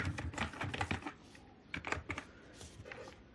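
Fingers tap quickly on a computer keyboard in short bursts of clicks with a brief pause midway, close and fairly quiet.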